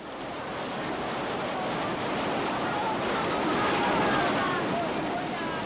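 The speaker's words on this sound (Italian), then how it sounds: "Non c'è modo di difendersi dalla violenza delle acque, che avanzano sempre più veloci invadendo tutto." Floodwaters surge in a continuous, loud roaring wash that sweeps through everything, with wind buffeting the microphone throughout.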